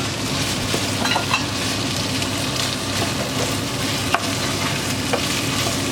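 Chickpea curry with rinsed chickpeas is stirred in a hot pan: a loud, continuous frying hiss close up, dotted with scattered scrapes and light clicks of the spoon.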